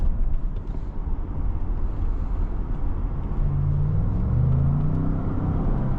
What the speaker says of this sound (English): that V6 actually sounds like a V8, funny enough. It has like a deep rumble to it.